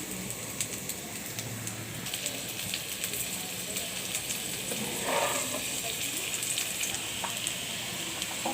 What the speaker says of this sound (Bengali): আলুগুলো দেখুন তেলে ভাজানো হয়ে গেছে